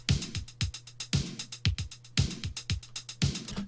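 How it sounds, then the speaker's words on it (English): Ready-made drum beat playing back in Ableton Live, a steady looping pattern of punchy kicks and crisp hi-hats and snares with a sustained low tone under it, loud and upfront with no talking. "I've got a ready-made drum beat here which sounds like this."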